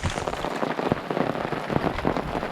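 Pea-size hail falls in a dense, steady patter of small impacts with scattered sharper ticks, close and continuous throughout, no voices.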